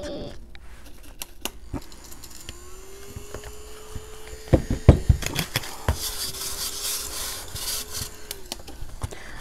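A coin scrapes across a lottery scratch-off ticket in rough, gritty bursts of rubbing and scratching, close up, growing more intense in the middle, with a faint steady tone underneath.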